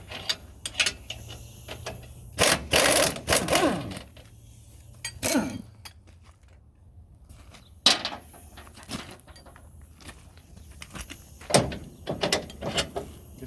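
Bolts are removed from a trailer coupler during a coupler replacement, heard as close metallic clanks, ratcheting and scraping in irregular bursts with quiet gaps between.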